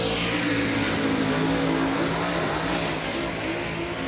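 Dirt track race car at Volusia Speedway Park during DIRTcar Nationals, engine held at a high, steady droning roar as it gets back on the gas, loud and continuous with no talking.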